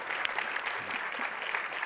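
Soft, distant applause from an audience at a fintech pitch competition, an even wash of clapping with no clear shouts of cheering.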